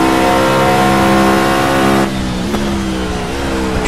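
Mercedes CLK LM race car in Project CARS, a loud, close engine holding a high rev that drops sharply partway through, then climbs again with quick gear changes.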